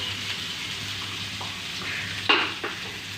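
Blended spice paste stir-fries in oil for a fish soup, giving a steady close sizzle with a couple of sharp utensil scrapes against the pan.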